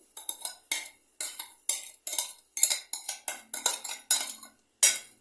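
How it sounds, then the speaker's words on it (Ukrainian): Sugar and egg yolks being whisked by hand in a bowl, a steady run of rhythmic clattering bursts, close and fairly loud, with no voices. "збиваю цукор, яєчну масу"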